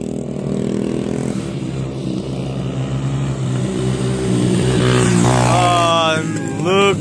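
Mini motorbikes race on a final lap, their small engines droning and revving steadily and then rising in pitch as they pass close by, with people talking over the noise.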